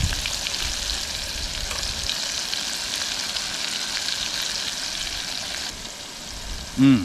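Squid calamari deep frying in oil in a small pot, a steady close hiss and bubbling crackle throughout that eases slightly near the end, where a brief short squeal cuts in.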